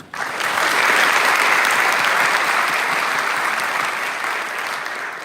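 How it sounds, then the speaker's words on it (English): Applause from an audience at a college award ceremony, a full, loud, sustained wash of clapping that swells in quickly, holds steady, then eases slightly toward the end. "let's applaud on her behalf"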